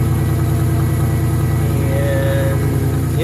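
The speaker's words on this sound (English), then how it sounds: "There's the exhaust. You can hear that." A 1988 Toyota 4Runner engine runs steadily, its exhaust a loud, constant low rumble heard close up, with a faint rising whine partway through.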